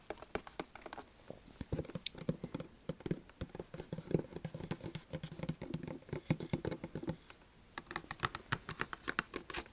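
Fingerpad tapping on video game collection items, soft rapid irregular taps in clustered bursts that patter like rain, close and fairly quiet with no voice.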